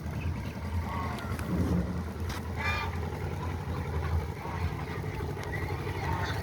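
A boat moves across monsoon floodwater through a village, giving a steady broadband wash of water and wind noise that runs throughout, with faint voices now and then.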